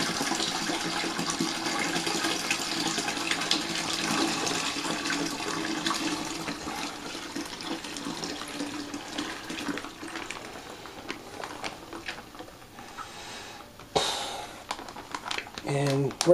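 Water pouring into a wine fermenting bucket while mixing a Vino Italiano Barolo wine kit, a continuous rushing splash that fills the bucket, steady and close, ending in a few clunks and splashes.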